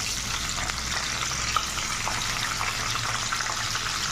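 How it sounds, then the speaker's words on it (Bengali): Washed cauliflower frying in hot oil in a wok for an aloo phulkopi curry, a dense continuous sizzle and crackle holding at an even level throughout, with no one talking. "ফুলকপিটা ভেজে নেবো"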